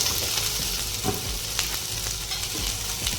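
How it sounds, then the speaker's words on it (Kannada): Green chillies and garlic frying in hot oil alongside onion and ginger, a continuous dense sizzle and crackle with occasional stirring clatter, close and steady with no talking. "ಹಸಿಮೆಣಸಿನ್ಕಾಯಿ ಮತ್ತು ಬೆಳ್ಳುಳ್ಳಿ ಚೆನ್ನಾಗಿ ಫ್ರೈ ಆಗಿದೆ."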